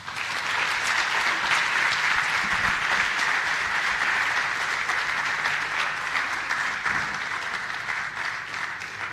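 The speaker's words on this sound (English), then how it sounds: "So please give them a really big hand of applause." Sustained audience applause fills a hall at an agriculture big data convention, dense and even clapping from a large crowd that holds steady for about nine seconds before easing slightly.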